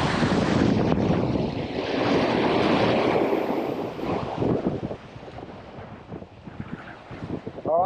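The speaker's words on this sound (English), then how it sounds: "because it is windy" Strong wind on coastal rocks while fishing buffets the microphone with a loud, continuous roar that eases slightly toward the end.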